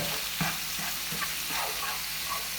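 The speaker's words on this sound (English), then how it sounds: "So you just want to stir those around a little bit." Shrimp sizzle loudly in a frying pan for a fra diavolo pasta while being stirred, with a constant hiss broken by soft scraping stirs.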